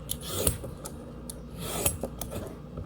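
Butternut pumpkin being peeled by hand, with a few short scraping rasps and light knife strokes at close range, quiet and intermittent with no talk.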